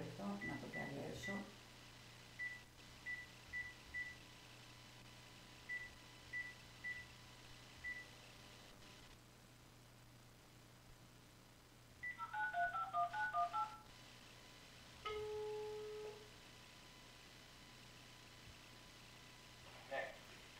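Series of telephone dialing tones as a call is placed for a phone interview on a radio show, short evenly spaced beeps in small groups, then a brief burst of rapid tones and a ringback tone, over a faint steady hum.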